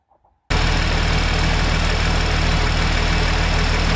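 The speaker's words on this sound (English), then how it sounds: "Okay, so I got the engine started here." School bus diesel engine running after being started, kicking in abruptly after a brief quiet moment and then idling loudly and steadily with an even low rumble and slight knocking clatter.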